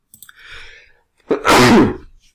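A single person sneezes sharply and loudly, close by, after a brief quieter intake of breath, in an otherwise quiet room during a live online trading webinar.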